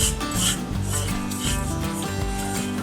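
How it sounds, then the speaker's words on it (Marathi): Rice and dal being stirred and dry-roasted in a pan for an instant khichdi premix, a steady close scraping and rasping of grains against the metal, continuous and fairly loud with no voices. "तांदूळ डाळ करपणार नाही याच्याकडे लक्ष द्यायचं, आपल्याला हलवत राहायचं आहे."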